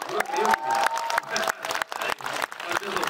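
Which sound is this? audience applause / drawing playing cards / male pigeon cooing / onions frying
audience applause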